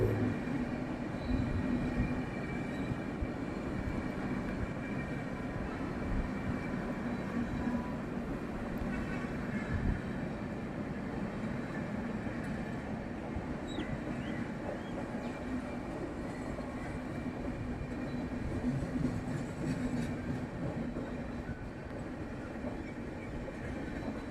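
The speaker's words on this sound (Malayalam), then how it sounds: "ധൻബാദ് ആലപ്പുഴ എക്സ്പ്രസ് ആണ് ഇപ്പോൾ അതാ വന്നുകൊണ്ട് നിൽക്കുന്നത്" Dhanbad–Alappuzha Express pulling into a station: a steady, close rumble of rail cars and wheels runs throughout with faint clatter, heard alone without talk.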